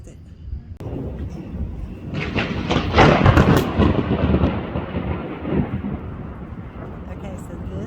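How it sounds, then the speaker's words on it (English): Thunder from a huge Texas storm rolls in, a sudden crack followed by a long rumbling swell that peaks and slowly fades, loud and broad, with faint rain in the background. "this is the beginning of a huge Texas storm"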